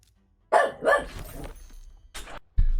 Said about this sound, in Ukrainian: відволікли мене собаки мої